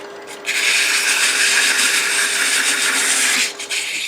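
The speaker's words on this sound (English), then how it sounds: "Sandpaper again, the very back." Sandpaper pressed against a wooden rook chess piece box spinning on a lathe gives a steady, loud hissing rasp for about three seconds, starting and stopping abruptly, over a faint motor hum.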